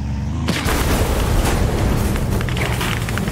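A loud dynamite explosion hits a tank in a Roblox tank-battle game, a sudden booming blast followed by a dense, sustained roar of debris and rumble that fills the whole stretch.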